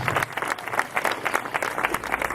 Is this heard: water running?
no